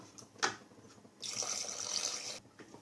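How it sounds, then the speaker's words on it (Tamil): A splash, then a steady pour of coconut milk into a pot of dalcha for about a second, followed by a few soft clinks, close and fairly quiet. "அதில் தண்ணி தேங்காய் பால் சேர்த்துருக்கேன்"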